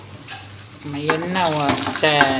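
Oil crackles and sizzles loudly as urad dal fries in a pan, with stirring scrapes and rising bursts of spattering.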